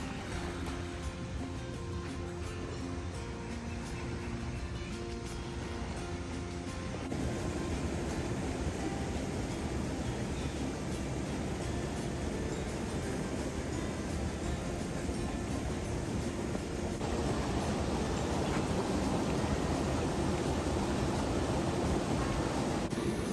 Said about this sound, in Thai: ฟังเสียงคลื่นครับ